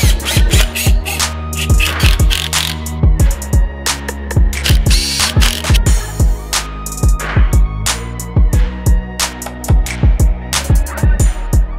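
A hand ratchet tightens aluminium rear timing cover bolts on a BMW N57 diesel engine in a workshop, giving rapid, loud, close pawl clicks in repeated bursts throughout.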